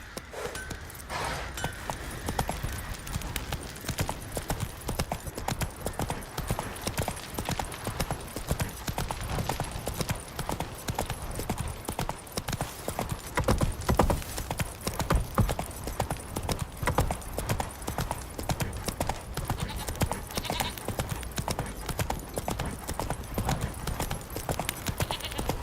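Horse hooves clip-clop in a steady continuous rhythm for the whole stretch, loud and close, with the occasional snort over the trotting beat.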